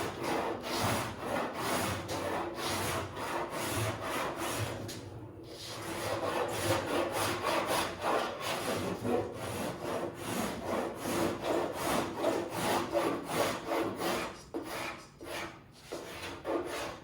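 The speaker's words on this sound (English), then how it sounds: "This cheese grater cuts only in one direction." A one-directional hand rasp of the cheese-grater type shaves wood into curls, producing loud, close, rhythmic rasping strokes in a steady back-and-forth cadence with a couple of brief pauses, no talking.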